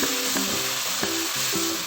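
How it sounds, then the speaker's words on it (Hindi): Spoon stirring sugar syrup into roasting semolina for sooji tukri halwa, a loud steady sizzle and bubbling with repeated scraping strokes against the pan, close and continuous. "साथ ही हमने चम्मच चला देना है।"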